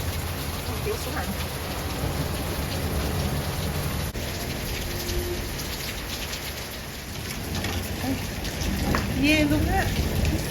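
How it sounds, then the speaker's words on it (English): Hail pounds down during a storm in Las Vegas as a dense, steady roar of hard pellets striking surfaces, with voices talking over it and the noise swelling toward the end. "We experienced hailstorm."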